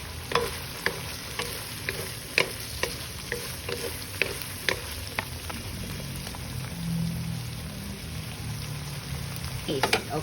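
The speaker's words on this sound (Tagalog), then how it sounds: "then we're gonna add the chilies and the white of the spring onion" Ground pork frying in a pan with chilies and the white of spring onion, a steady close sizzle broken by repeated sharp clicks of a spatula stirring and scraping, with a brief low voice near the end.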